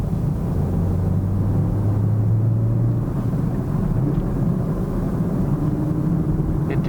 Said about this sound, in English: It did an upshift.